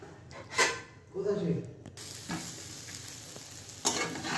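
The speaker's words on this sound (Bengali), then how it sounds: "তেলটা গরম হয়ে গেলেই ঢ্যাঁড়সগুলো ছেড়ে দেবো" A soft sizzle of okra frying in hot oil starts partway through, with brief bursts of hiss and a few clicks; quiet overall.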